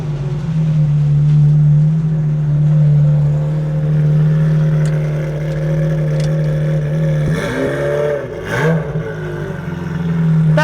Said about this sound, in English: That's how a 355 should sound.